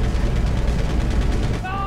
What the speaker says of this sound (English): You're firing rockets at a crop duster?!